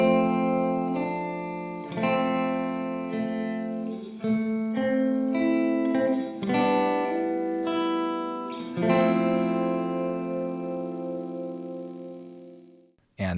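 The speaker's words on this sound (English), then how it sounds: "This is probably going to be way too much reverb for the majority of people," Sustained electric guitar chords with single-coil pickups through a Two-Rock Jet 35 amp preset ring out one after another, drenched in long reverb tails that wash and fade slowly into silence.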